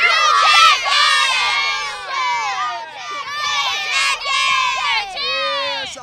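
A group of cheerleader girls shouts a cheer together at a hometown school sports event, several loud, high-pitched rising and falling yells in quick succession, close and lively.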